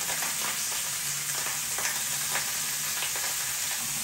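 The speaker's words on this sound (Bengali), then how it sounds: "এই যে এখন মাছটা ভাজতে দিয়ে দিলাম।" Poa fish frying in a pan of hot oil, a continuous dense sizzle with faint rhythmic scraping and a low hum running underneath, steady and close.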